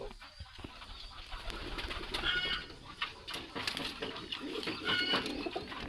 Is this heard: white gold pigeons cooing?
yes